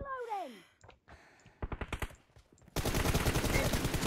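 Rapid gunfire in a competitive shooter scrimmage: a rising electronic sweep gives way to scattered single shots, then a dense, loud burst of automatic fire that runs to the end, with brief voices in between.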